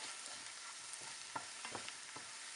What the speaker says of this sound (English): You just fry the masala for about a couple of minutes.